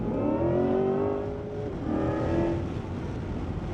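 An electric Chevrolet Corvette accelerating up close, its tone rising steadily in pitch, then dropping and rising again as it speeds up, with a constant road rumble underneath.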